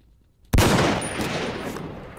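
A sudden burst of video game gunfire erupts after a brief quiet, then a sustained crackling roar that slowly fades, with no talking.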